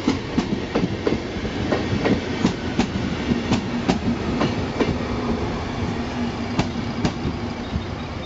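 Long double-decker express train arriving at Interlaken station in Switzerland, with a steady rolling rumble and regular clickety-clack wheel beats passing close by, no talk.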